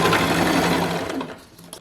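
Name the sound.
sewing machine back stitching a sweater cape seam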